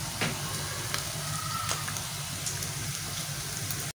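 Tomato paste made from about three quarters of a kilo of tomatoes fries in a pan for a minced meat and bitter gourd curry, giving a steady, close sizzle with a few faint clicks and no talking.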